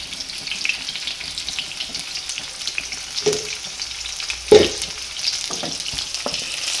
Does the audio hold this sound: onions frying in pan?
yes